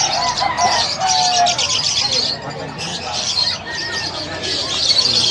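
A dense chorus of many birds, including pet lovebirds, chirping and cooing at once at a Bocaue pet market stall, continuous and busy, with people talking underneath.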